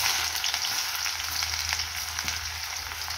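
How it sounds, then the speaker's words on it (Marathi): Chopped onion frying in hot oil in a pan, a loud, close, continuous sizzle with faint stirring taps and no talking. "तर मी कांदा परतायला टाकते"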